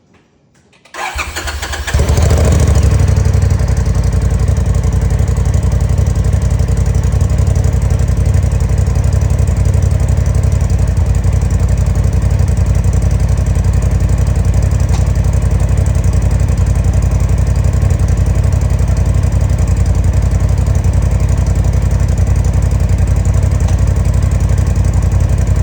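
A 2021 Polaris RZR Turbo S on its stock exhaust cranks and fires up, then settles into a loud, steady, close idle that continues unbroken for over twenty seconds.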